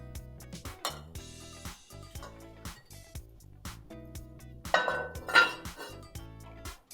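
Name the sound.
covering a braising pot of short ribs with its lid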